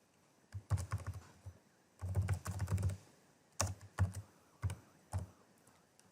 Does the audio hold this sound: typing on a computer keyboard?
yes